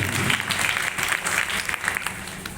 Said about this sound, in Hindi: सभी के सम्मान में एक बार जोरदार तालियां हो जाए साथियों